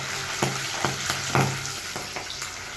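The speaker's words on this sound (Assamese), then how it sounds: "এতিয়া মই কেৰাহীত তেল দি লৈছোঁ তেল দি পিনে মই এতিয়া ধুনীয়াকৈ ফ্ৰাই কৰিম মই মাছ লগাই লৈছোঁ" Fish frying in oil in a kadai, a continuous bright sizzle with periodic bursts and spatters, close and loud, no voices.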